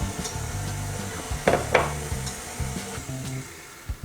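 An electric mixer whirs close by as egg yolk is mixed into stiffly beaten egg whites for chiles rellenos batter. Its steady hum carries brief clatters against the bowl.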